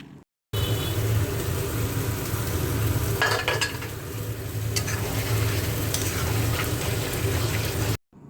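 Mutton cooking with yogurt in a covered pan, a steady sizzle and low bubbling running throughout, with a few brief metallic stirring scrapes midway; no talking.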